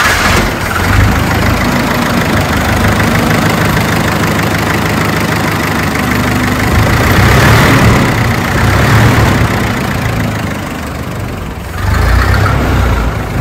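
A 1913 Cadillac Model 30 touring car engine runs loud and steady at close range, a continuous low idling rumble with slight rises in speed and no talk over it.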